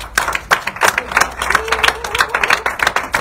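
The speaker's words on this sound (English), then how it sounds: "Let's start with a little bit of clapping so people know that you're in the room." A live audience at a singing workshop claps together, a close, fairly loud run of overlapping hand claps in an uneven rhythm.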